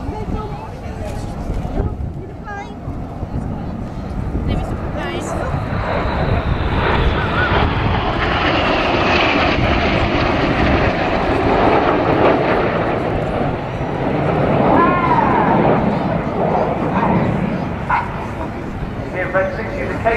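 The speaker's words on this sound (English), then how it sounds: "This is the Canberra pass." An English Electric Canberra jet flies past at the RAF Cosford airshow, a sustained broad engine roar that swells and slowly fades over twenty seconds, with a dog barking nearby and commentary running underneath.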